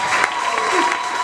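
Church congregation at a Sunday service applauding and cheering loudly in a short, dense burst of clapping and crowd voices.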